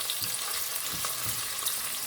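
Onions sautéing in hot oil with whole spices for mutton biryani, a steady broadband sizzle with a few soft stirring knocks, close and continuous with no voices.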